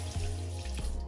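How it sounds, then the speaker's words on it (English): Water from a running kitchen tap splashes as hands are rinsed, a close, steady hiss with a couple of brief knocks. "I'll just rinse my hands and wash them."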